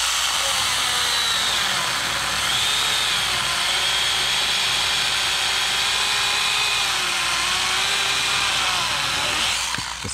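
Stihl GTA26 mini cordless chainsaw cutting through a log, a sustained high-pitched motor whine with the chain rasping through wood, loud and close for about ten seconds, the pitch wavering as the saw nearly bogs down, then cutting off at the end.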